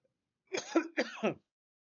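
A person gives a dry cough, two or three short, harsh bursts close by in otherwise quiet surroundings.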